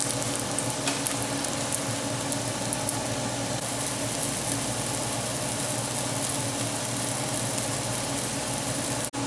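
Gluten-free bread batter cooking like a pancake in a pan over medium-low heat gives a steady, even sizzle that carries on unbroken, close and fairly quiet, with no talking.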